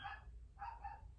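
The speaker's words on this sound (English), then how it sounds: "sorry about the dogs" Neighbor's dogs bark outside a window in two short bursts, close and fairly clear, with no talking over them.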